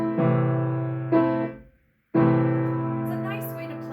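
Piano minor triads, first broken hand to hand and then struck solid, in two sustained groups separated by a short silence near the middle, close and clear with no talking.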